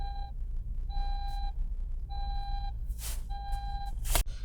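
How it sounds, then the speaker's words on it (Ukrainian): Four evenly spaced electronic seatbelt warning beeps chime steadily in a Toyota Avensis, each about half a second long, with a soft rumble underneath and a brief rustle near the end. "датчик, який сповіщає, коли хтось не пристьобнутий. Пі, пі."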